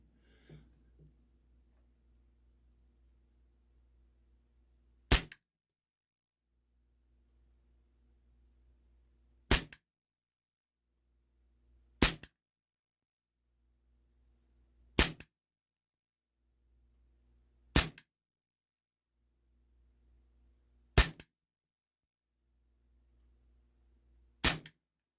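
An H&K USP 4.5mm air pistol from Umarex fires seven sharp, snappy shots spaced a few seconds apart, each a crisp isolated crack over near silence, with a faint low rumble between them.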